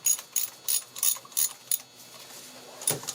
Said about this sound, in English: Then the ratchet.